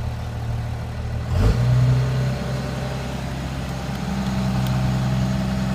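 A first-generation 12-valve Cummins diesel engine runs at a steady high idle around 1200 RPM, a close, even drone with a brief louder bump partway through and no talking.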